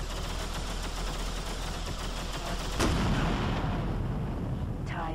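Weapons fire in the space combat game X3 Albion Prelude aimed at a Typhoon missile, a steady rapid stream of shots with a sharp burst near the middle, then a sweeping tone near the end.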